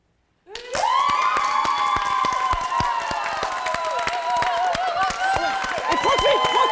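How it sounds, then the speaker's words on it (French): A group applauds loudly and steadily, like a crowd greeting a rock star, with dense close clapping mixed with cheering and children's shouts that lasts the whole stretch and swells slightly near the end. "quand il va arriver, on va l'applaudir très fort. Comme si c'était une rock star"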